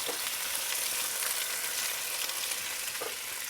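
Grape tomatoes frying in hot olive oil in a pan: a loud, dense, continuous sizzle and crackle, close and steady throughout with a few brief spits, no voices.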